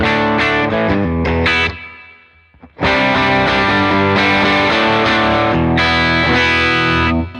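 A loud electric guitar on its neck pickup through an overdriven Line 6 amp preset plays a quick phrase, pauses briefly, then rings out with sustained, saturated chords.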